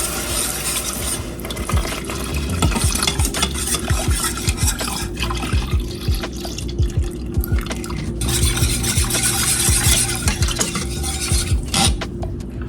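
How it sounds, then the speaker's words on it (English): Three cups of milk pour slowly into a baked mac and cheese sauce while a utensil stirs continuously, with steady scraping and clinking against the pot and liquid sloshing close up, no talking. "Now we're going to add 3 cups of milk to this mix."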